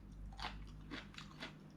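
Close crunching bites and chewing of a chayote and egg stir fry, three or four crisp bursts in quick succession, quiet and up close with no talking.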